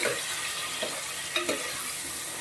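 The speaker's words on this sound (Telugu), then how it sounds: "కుక్కర్ పెట్టి దాంట్లో కొంచెం ఆయిల్, పసుపు, ఉప్పు వేసి పన్నీర్ వేసి కాసేపు వేయించుకుందాం" Paneer fries in oil with turmeric and salt inside a pressure cooker over a high flame, making a steady soft hiss with a few faint pops and light clinks of stirring, and no talk.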